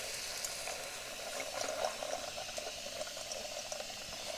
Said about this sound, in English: I'm gonna go over here and just put some water in.